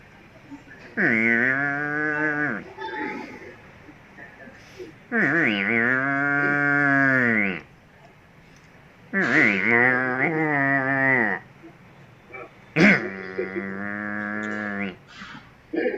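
A young buffalo bawls four times, each call long, loud and drawn out, separated by short pauses.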